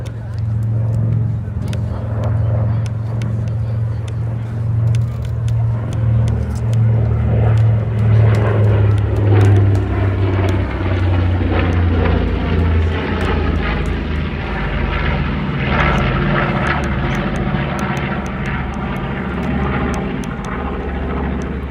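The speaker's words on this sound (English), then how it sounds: "B-25J Mitchell." A B-25J Mitchell bomber runs in at an IWM Duxford D-Day anniversary airshow, its piston engines droning loudly and the pitch shifting as it passes, with crowd noise underneath.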